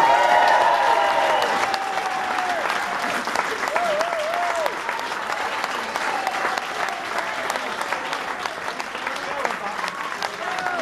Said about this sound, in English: Give him an applause.